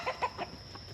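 Chickens clucking in a garden, a few short clucks close by in quick succession over the first half second, then quieter and sparser.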